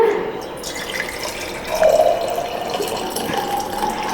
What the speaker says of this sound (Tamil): இப்போ வந்துங்க தண்ணி ஊற்றிக்கலாங்க.